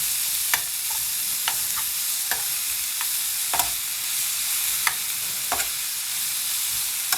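Giant clam pieces being stirred with tomatoes in a pan, a soft steady sizzle under repeated sharp scrapes and clacks of a utensil against the pan, no talking.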